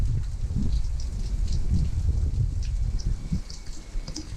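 Rain falling around a Leopard 39 catamaran, a steady close patter of drops with faint wind behind it.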